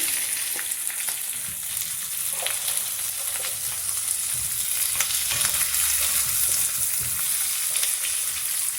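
Onion, green chili and garlic sizzle steadily in a pan for a small chutney, a continuous close frying hiss with occasional stirring scrapes and no talk.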